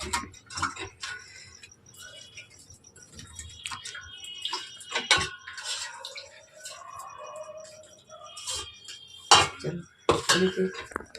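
Cauliflower pieces being washed in water in a metal pot, with intermittent clinks, knocks and splashy sloshing, some louder bangs near the end, heard up close with no talking.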